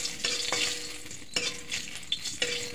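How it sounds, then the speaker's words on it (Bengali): White cumin seeds and bay leaves fry in hot oil with a steady sizzle while a spoon scrapes and stirs the pan in several distinct strokes, close and clear. "এখন ভালো করে নাড়ি চাড়িয়ে নেব, জিরাটা কালো হবে তারপর দেবো তরকারিতে ফোড়ন।"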